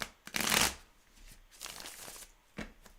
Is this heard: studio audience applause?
no